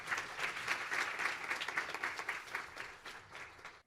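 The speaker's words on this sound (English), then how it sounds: "Please give her a big round of applause." Audience applause at a children's world peace summit, a steady patter of many hands clapping at moderate level for a few seconds before tapering off at the end.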